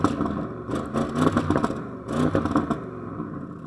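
An Audi RS6 estate's engine revs up twice in rising surges, loud and close, with a rough mechanical clatter between the pulls.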